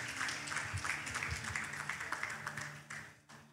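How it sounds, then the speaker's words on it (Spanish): A church congregation claps during a worship service, moderate applause with distinct individual claps over held organ or keyboard tones, tapering off toward the end. "Un fuerte aplauso para Él, el Rey de Reyes."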